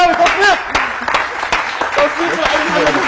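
Audience clapping in a studio, a loose burst of handclaps that holds steady throughout, with voices talking and calling out over it.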